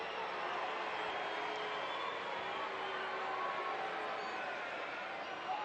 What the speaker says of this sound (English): Crowd not offering much sympathy at the moment.